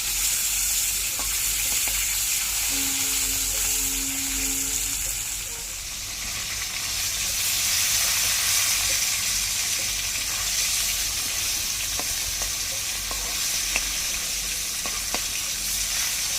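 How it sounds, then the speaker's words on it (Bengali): Hilsa fish fry in hot oil in a wok, a loud continuous sizzle and hiss lasting throughout, close up and steady, with a brief faint tone partway through and no talking. "মাছ ভাজা হয়ে গেছে তুলে নেবো"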